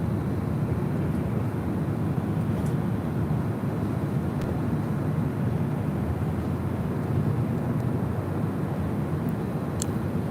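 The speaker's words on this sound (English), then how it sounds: "This is Delta Airlines 916 taking off to San Francisco." A Delta Airlines jet airliner takes off at LAX, producing a continuous, even roar from some distance with faint scattered clicks and no talking.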